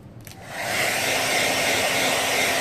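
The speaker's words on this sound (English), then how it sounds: "We're going to dry with our blow dryer." A hair dryer whirs up after a short quiet moment and keeps running as a steady, loud, close airy roar.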